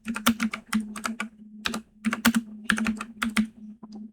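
Someone types on a computer keyboard in quick, irregular bursts of crisp, close key clicks with short pauses between runs.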